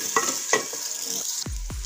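Onions frying in hot ghee in a village-style kitchen, a steady close sizzle broken by a few stirring scrapes and two deep pan knocks near the end, with no talking.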